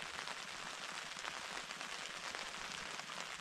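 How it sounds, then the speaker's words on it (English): Rain falling on a tarp at a winter truck campsite, a faint steady patter of drops with a continuous hiss and no talking. "It's raining, as you can probably hear on the tarp here."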